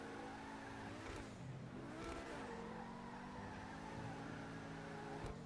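A Tempesta sports car skids in GTA 5 Online, with tires squealing over a revving, racing engine that rises and falls in pitch during the slide. The sound is continuous and up close, with no talk.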